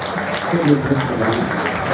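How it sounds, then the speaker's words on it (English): Audience applause for Tyler at a charity football match between British Transport Police and Emmerdale, a steady crowd clapping over about two seconds with voices mixed in. "There's a round of applause for Tyler"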